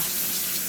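Very hot water gushing from a steaming sink tap, a close, steady splashing hiss without pause.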